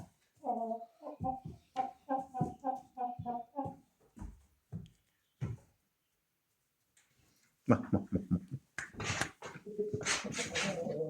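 A 5-kilogram rooster clucks in a quick run of short, throaty calls, goes quiet, then returns with louder raspy squawks and clucks close by.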